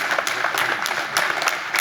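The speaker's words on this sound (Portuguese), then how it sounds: "Um forte aplauso para Paulo Portas." A forum audience welcomes Paulo Portas with sustained applause at a session on the future of water. Many hands clap in a full, even roar, nearby and unbroken, with no voices on top.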